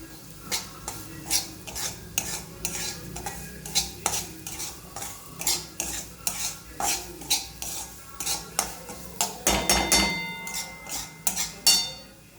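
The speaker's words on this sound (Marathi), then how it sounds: "बघा, मी रवा भाजत" Semolina (rava) dry-roasting in a pan for strawberry halwa, stirred with a metal spoon that scrapes and clinks against the pan in a rapid irregular series, getting busier near the end, close with no talk.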